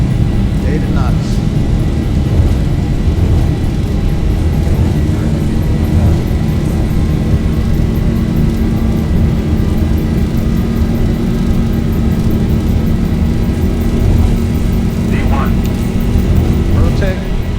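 A Boeing 737-800 on its takeoff roll in the X-Plane 12 simulator, a loud steady low engine roar and rumble that holds throughout, with a voice talking over it.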